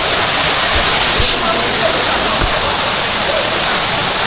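Balite Falls in Amadeo, Cavite rushes in a loud, unbroken roar of falling water close by, with a few low thumps beneath it.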